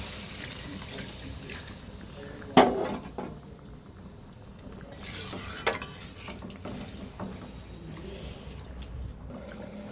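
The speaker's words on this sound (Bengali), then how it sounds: "ওই গরম জলটা দিয়ে দেবো।" Hot water is poured into a pan of chicken curry with well-browned meat. A sudden hiss starts it, followed by a quieter, steady bubbling and splashing wash, with no voices.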